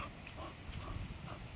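A Cane Corso puppy whines and whimpers softly during play, a faint, brief bit of dog vocalizing with no talking over it.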